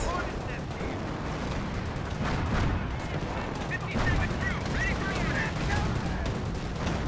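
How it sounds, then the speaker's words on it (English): Rocket artillery barrage from a 20cm launcher in the World War II strategy game Company of Heroes, with dense overlapping blasts and booming impacts rolling on continuously amid battlefield noise and scattered gunfire, while a voice talks over it. "20cm rocket barrage, nukes the formation of the AI"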